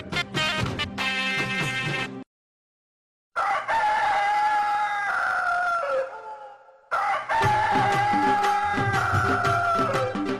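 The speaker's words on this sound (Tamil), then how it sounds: "சேவல்." A rooster crows loudly and close by, with drawn-out cock-a-doodle-doo calls repeated several times, separated by a brief silence and a softer tail between crows.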